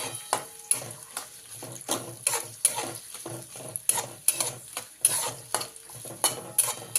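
Onion frying in hot oil for a village-style sukat rassa: repeated scraping stirs of a spoon against the pan over a continuous sizzle, in an irregular rhythm of strokes across the whole stretch, close and fairly loud.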